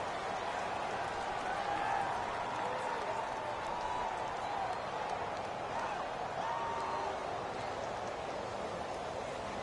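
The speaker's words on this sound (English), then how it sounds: "This crowd is ready as their guys get set to match up" Steady stadium crowd roar and cheering from a PS4 American football video game, a continuous dense wash of noise at even loudness throughout, with faint tonal calls drifting over it.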